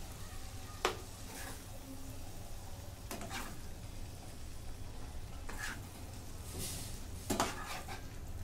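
Egg masala being stirred gently on a tawa, a quiet continuous sizzle broken by occasional spatula scrapes and taps on the metal.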